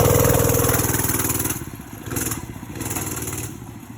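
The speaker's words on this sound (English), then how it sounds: "I said I'm trying to do a wheelie first." A motorcycle engine revs hard while the rider pulls a wheelie, loud and rough for the first second and a half, then drops to a quieter idle with two shorter rising revs.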